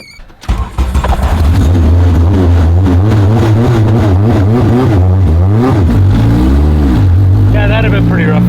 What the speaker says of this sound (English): I can just put the clutch in, start it, and take off